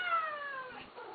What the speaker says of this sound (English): he is a very sweet little kitten